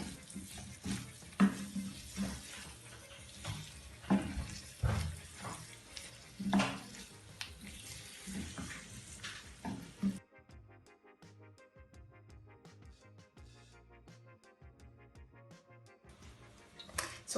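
Chicken strips scrape and sizzle in a pan as they are stirred, with clattering utensil knocks, then quieter gentle frying.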